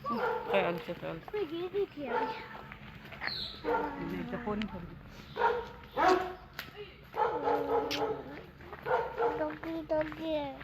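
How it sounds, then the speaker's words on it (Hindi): Small dog yapping and whimpering near a village path in a hilly area, short bursts recurring throughout while people talk over it. "डॉगी है, कुछ नहीं होता।"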